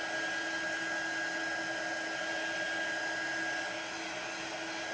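A hair dryer blows steadily on chalk paste, a constant close, loud airy whir with a faint motor hum, running unchanged for the whole stretch with no voices.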